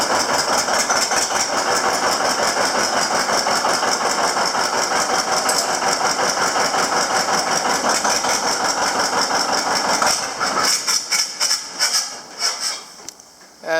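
Two-cylinder John Deere 720 tractor engine running, a loud, close, steady rhythmic chugging that continues for most of the stretch before the sound drops and breaks up near the end.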